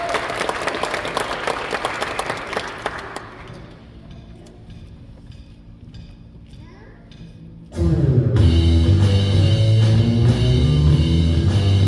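Concert audience claps for a band after a song, a burst of applause that fades into quiet room noise with faint clicks before loud rock music with heavy bass abruptly kicks in.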